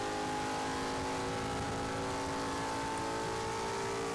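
A race car engine holds a high, steady revving drone in fifth gear in the rFactor racing game, loud and unbroken throughout.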